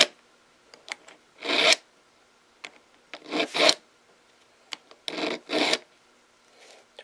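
Simmons Land Shark broadhead sharpened with a hand file, close, crisp rasping strokes in short separate bursts with quiet gaps, two or three strokes per burst, no speech.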